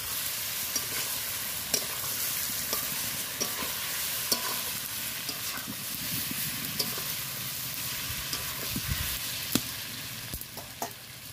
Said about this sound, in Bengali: দেখো কেমন ভাজা ভাজা হয়ে এসছে।